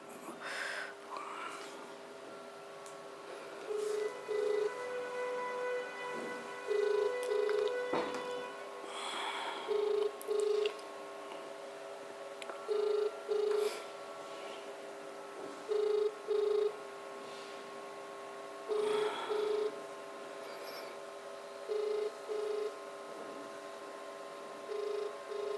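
Telephone ringback tone for a call that goes unanswered, repeating double beeps roughly every three seconds, clear and steady over a faint background hum, with no one picking up.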